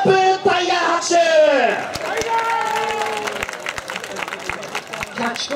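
A crowd claps for the wrestler Super Buu Tiger at a university pro-wrestling club show at the Nakasu festival, with crisp scattered claps building under an announcer's voice.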